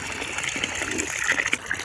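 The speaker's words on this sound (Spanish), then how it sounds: "Estos bebederos de agua. ¿Sí ven? Voy a beber agua." Cold drinking water gushes steadily from a public drinking fountain in a park in Valladolid, Spain, a close, continuous splashing stream with no talk over it.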